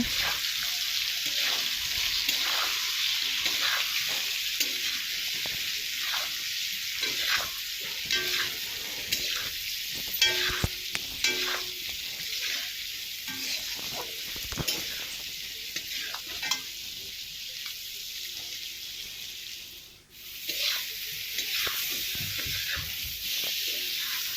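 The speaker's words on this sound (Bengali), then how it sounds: "হলুদ দিয়ে একসাথে ভেজে নেওয়া হবে" Potatoes frying with turmeric in a pan for a katla fish curry with potato and tomato, a steady close sizzle with scraping stir strokes throughout and a brief dip near the end.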